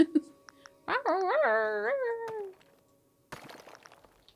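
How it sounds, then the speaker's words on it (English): A dog's whimpering whine in the video game Luma Island: one drawn-out, wavering, high-pitched cry lasting over a second and sliding down in pitch, followed by a short pause and a burst of faint rustling noise. "It honestly sounds like some kind of dog in pain is down here"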